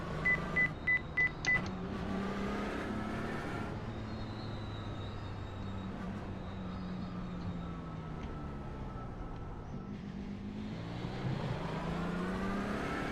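A race truck engine in the iRacing sim drones steadily and loudly throughout, a low harmonic-rich note shifting in pitch as it revs, with a few short beeping tones at the start and no talking.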